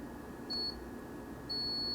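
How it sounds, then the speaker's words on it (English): A multimeter on continuity test gives two short, clean beeps about a second apart while repairing a Motorola Quantar exciter, each tone thin and steady over a quiet hum. "I have to push pretty hard before I get a continuity beep"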